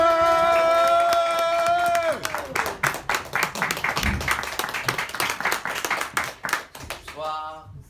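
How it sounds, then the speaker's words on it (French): A comedy club audience applauds and cheers to welcome a stand-up comedian opening the show, with dense clapping and whoops building after a voice and a few music tones fade out, then dying away at the end. "je vous prie de faire un tonnerre d'applaudissements à Judy Dandoun"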